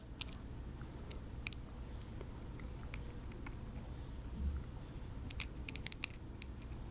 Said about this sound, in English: I'll just take these screws out